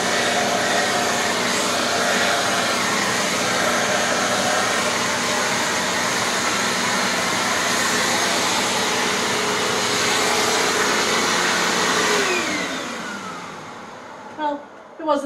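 A vacuum cleaner blows a strong, steady rush of air through a dusting brush nozzle near a foyer chandelier, loud and continuous, then cuts off near the end, leaving a few brief knocks.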